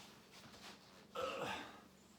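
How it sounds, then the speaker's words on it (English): An eraser rubbed across a pencil drawing on paper gives a short, scratchy burst of friction of about half a second, after a quiet stretch. "I guess I should erase it"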